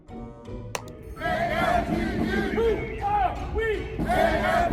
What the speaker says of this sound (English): a crowd of AFGE federal employees, yes, federal employees, have gathered outside the Office of Management and Budget